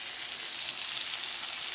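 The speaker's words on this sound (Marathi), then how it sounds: "आता दुसऱ्या बाजूने पण मस्तपैकी भाजून घेऊया, तळून घेऊया" Fish frying in hot oil gives a close, steady, hissing sizzle with fine crackling that holds evenly and does not let up, with no talking.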